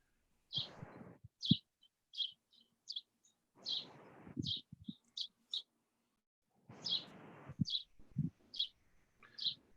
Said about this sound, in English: bird chirping